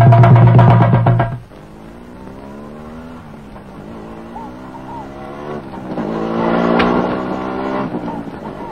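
A motorbike passes nearby, its engine note loud at first, then dropping away before a rising, whining tone swells back up and fades again.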